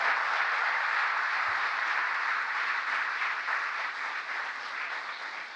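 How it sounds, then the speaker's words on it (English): An audience at a presidential event marking the Inflation Reduction Act anniversary applauds in a steady, dense roar of clapping that holds evenly and tapers slightly near the end. "I'd like you to give an applause to every one of my colleagues who deserve such amazing credit for getting this done"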